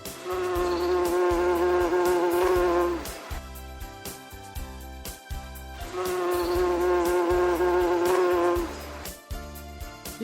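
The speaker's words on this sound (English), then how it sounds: "mosquito," A mosquito's steady high whine is heard in two long sustained stretches, each over a looping rhythmic background beat of music.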